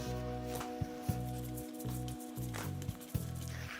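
Cockles tossed by hand with wild chives, red and green chili peppers and seasoning, giving soft wet squishing and sticky sizzle-like smacks in an irregular rhythm, close and moderately quiet, with no talking.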